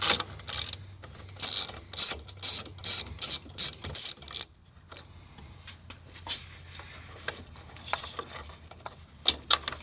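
A ratchet on a 2-foot extension works an 8 mm bolt out of a 2013-2016 Dodge Dart engine bay: a series of close, crisp clicking bursts in quick rhythm, then quieter scattered clinks and handling noises.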